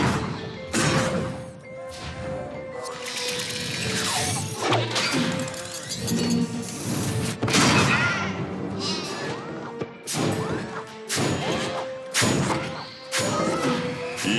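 Cannons fire from fortress towers in the Skylanders: Swap Force video game, heard as a dense run of loud booming shots and crashing impacts piling over game music and effects throughout.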